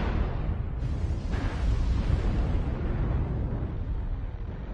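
Missile explosions pound continuously in MechWarrior Online during a Mauler MAL-1R mech battle, producing a dense, loud, rumbling barrage of blasts with no pauses and no voices.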